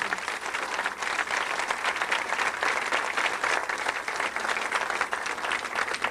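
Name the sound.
audience applause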